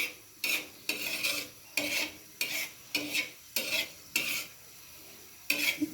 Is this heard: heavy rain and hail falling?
no